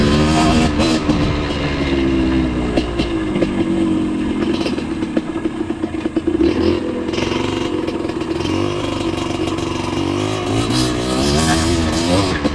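A motorcycle speeds along a road, its steady engine drone loud and close throughout, with wind rush and occasional rattling clatter as it rides fast over a bumpy surface.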